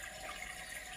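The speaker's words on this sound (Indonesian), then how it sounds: "Nanti airnya keluar di lubang sini" Water gushes from the outlet hole of a washing machine in a brief, faint, steady hiss with no voices over it.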